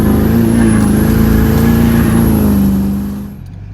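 A diesel LB7 truck accelerating hard, its engine roaring loud and close with a deep, rising drone that fades away in the final second.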